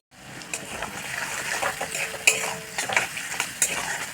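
Chopped onion and green chili fry with whole garam masala and a dried red chili in a hot pan, a steady close sizzle broken by scraping stirs and sharp utensil clinks, with no voices.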